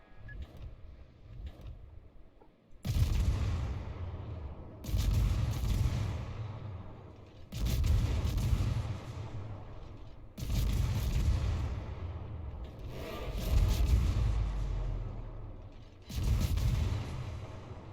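Warship guns in a naval video game fire six heavy salvos, each a loud booming blast with a rumbling tail, spaced roughly two to three seconds apart.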